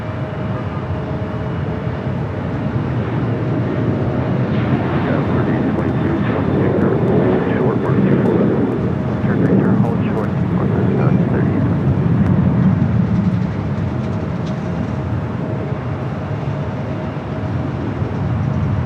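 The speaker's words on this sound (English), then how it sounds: "Airlines 2478 taking off to Houston Intercontinental on the 737-900ER." United Airlines Boeing 737-900ER taking off at LAX bound for Houston, a loud sustained jet engine roar that builds and rumbles for many seconds before easing, with voices talking over it.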